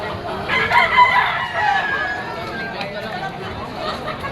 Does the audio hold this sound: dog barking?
no